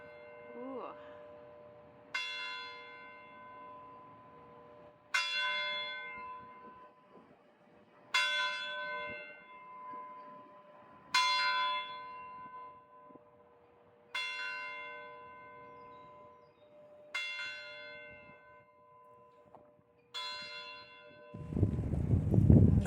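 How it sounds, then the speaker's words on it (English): A church bell rings near the courthouse in Fayetteville, Tennessee: seven loud, clear, evenly spaced strikes roughly three seconds apart, each ringing out and decaying in open outdoor air, then a burst of rustling noise at the end. "I was not expecting that bell to go off, and I'm right here by the courthouse."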